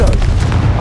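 Confringo spell explosion from Hogwarts Legacy, a deep booming blast that fills the short clip with heavy low rumble, loud and close.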